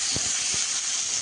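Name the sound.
water poured into hot okra curry pan, sizzling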